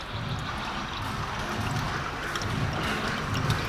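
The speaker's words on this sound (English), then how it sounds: "we're going to begin to pour the water or the coolant" Water poured into the radiator of a Hyundai Getz with a G4EE or G4ED engine, a steady close rushing and splashing stream that runs without a break, with no voices.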